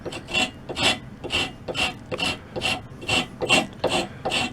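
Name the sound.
rasp coarse side rounding off wooden table leg edge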